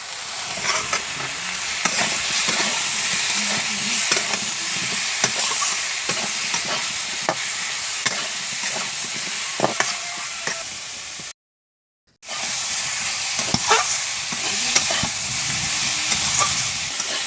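Masala with chopped chili and salt being sautéed for a tilapia curry, a loud continuous sizzle with frequent scraping stirs, broken by one brief moment of silence before the frying resumes.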